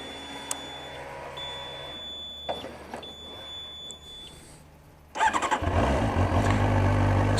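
Triumph Speed Four 600cc fuel-injected inline-four motorcycle: a few faint clicks and a quiet whine, then the engine catches at once and settles into a loud, steady, close idle.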